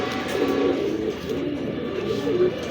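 A loft of pigeons coos in low overlapping rolls, close and steady throughout, with faint background voices.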